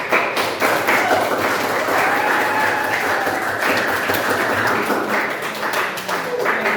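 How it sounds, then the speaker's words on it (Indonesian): Students in a classroom during a lesson on artificial intelligence and building a calculator app clap for a classmate, a loud, close, continuous patter with a few heavier thumps mixed in. "Jadi tepuk tangan untuk teman kita."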